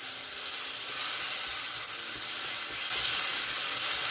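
Onions and tomatoes sautéing in a pan, a steady bright sizzle and hiss that holds throughout and grows slightly louder near the end, close up with no voices.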